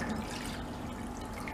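Lukewarm water poured into a bowl for pizza dough, a short, close, steady trickle and splash lasting just over a second.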